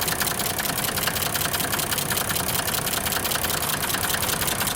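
A Mercedes W124 or W126 engine idles steadily while the AC compressor clutch is engaged, making a close, even drone with a fast rhythmic ticking clatter throughout and no speech.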